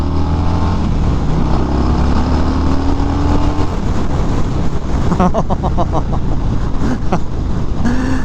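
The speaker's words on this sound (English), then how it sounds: "Oh, this is a fun bike to ride." A 2025 Harley-Davidson Breakout motorcycle is ridden on the road, its engine a loud continuous rumble with rising revs and heavy wind buffeting throughout, close to the rider.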